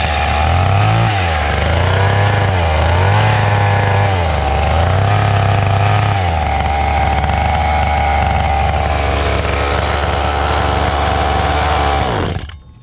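A vintage HPI RS4 2-speed nitro RC car engine runs loud and close, rich and steady, with rhythmic revving swells early on before holding a buzzing idle, then cutting off abruptly at the end.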